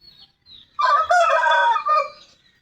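A Shamo fighting rooster crows once, loud and close, a long hoarse call after a few soft clucks, with no talk over it.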